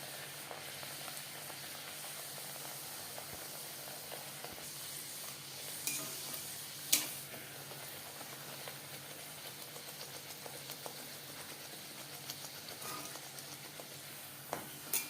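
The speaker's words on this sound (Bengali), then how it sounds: "বেশ খানিকটা রিফাইন্ড অয়েল গরম করে নিয়েছি। এবার দিয়ে দিলাম বেলে রাখা লুচি।" Luchi deep-frying in plenty of hot refined oil, a steady broad sizzle and crackle throughout with a few sharper spatters and pops, close and even, no voices.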